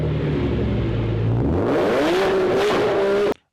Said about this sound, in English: What a fantastic sounding car.